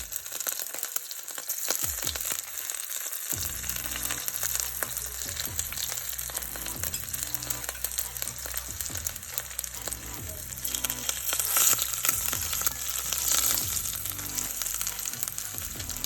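Chopped onions sizzle steadily in a pan as a home cook prepares a dish with garlic, bay leaf and Worcestershire sauce, a dense continuous crackle with some stirring clatter, no talking.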